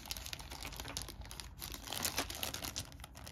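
A small plastic bag of dice from a Konflikt '47 German Army starter kit crinkles up close in a quiet room, an uneven run of crisp rustles that grows a little busier toward the end.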